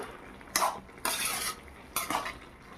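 Bottle gourd greens being stirred in a metal pan, with three distinct bursts of spoon or spatula scraping against the pan separated by short pauses, fairly close with a faint sizzle beneath.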